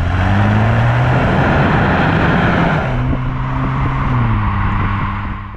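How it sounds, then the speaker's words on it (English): Turbocharged four-cylinder engine in a Hyundai Sonata N Line accelerating hard, a loud steady drone that climbs in pitch, drops briefly at a gear change, then climbs again, heard close with no talk. "The turbocharged four-cylinder is the real star as it pulls the car hard."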